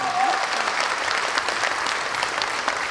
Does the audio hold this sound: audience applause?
yes